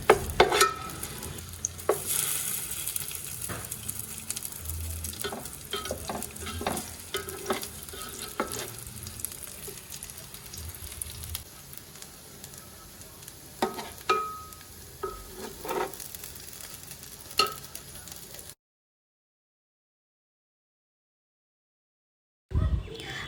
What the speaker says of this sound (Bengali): এইভাবে উল্টিয়ে পাল্টিয়ে ভেজে নেব।